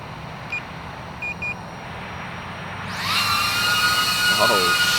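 DJI Avata drone spinning up and lifting off, a faint beep or two over quiet ambience, then a sudden loud, high buzzing whine of propellers that rises in pitch and holds steady nearby.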